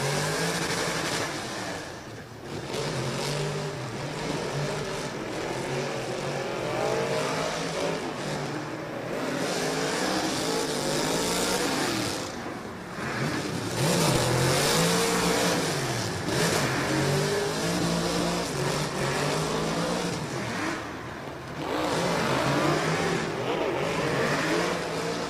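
A drift car's engine revs hard and continuously during a qualifying run at a drift championship in Oman, with loud, rising and falling high-revving bursts, bouncing off the limiter and dipping briefly between throttle stabs.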